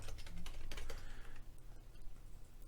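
Rapid, close keystrokes on a computer keyboard as a chmod command is typed, a dense burst of clicks that thins out toward the end.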